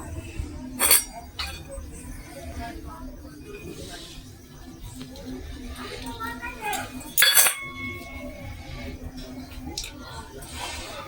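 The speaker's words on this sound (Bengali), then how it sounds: "আমি একটা নিয়ে নিচ্ছি প্লেটে।" A freshly fried aloo bora potato fritter is lifted onto a plate: two sharp clinks of utensil against the plate about six seconds apart, with softer handling noises between them and someone speaking Bengali throughout.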